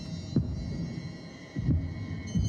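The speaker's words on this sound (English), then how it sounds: "That heartbeat." Heartbeat sound effect from The Shining film soundtrack: three slow, deep thumps spaced over a low, steady hum, fairly close and alone with no voices.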